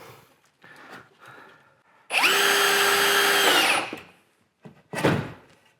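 A power drill whirs loudly and steadily for about two seconds as it backs a screw out of plasterboard in a bedroom, framed by quieter handling clatter before and a sharp knock after.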